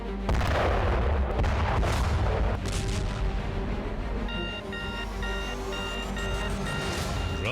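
Heavy booms and rumbling blasts from a Russian strike on Kyiv, dense low-frequency explosions early on, then a steady roar with a faint repeating electronic beep or alarm tone in the background.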